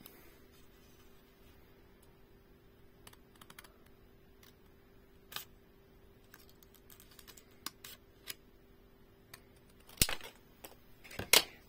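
Two layers of paper card cut at once for a pop-up scrapbooking card: scattered small snips and ticks, quiet at first, then a few louder crisp cuts near the end, close up with no talk.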